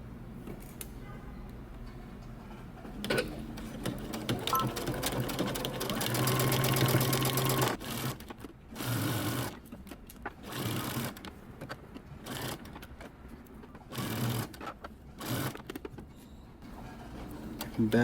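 Sewing machine stitching a neckband onto a men's button-up shirt, running in bursts of rapid stitching separated by short pauses and backstitch stops, close and fairly quiet.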